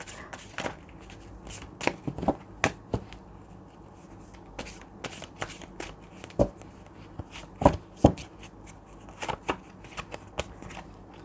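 Tarot cards are shuffled by hand close up, with irregular bursts of crisp riffling and snapping card clicks spread across several seconds.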